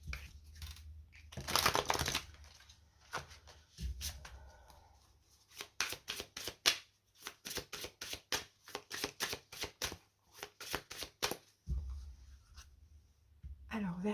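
Oracle cards being shuffled and cut by hand, giving bursts of papery riffling and a run of quick, crisp card flicks and taps, close and fairly quiet with a few pauses between.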